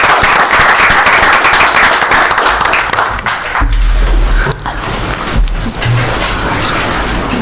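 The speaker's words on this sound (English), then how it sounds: "a little round of applause" Audience at a board of education meeting giving a round of applause, steady close clapping from many hands for about three seconds, then quieter room noise, shuffling and low murmuring.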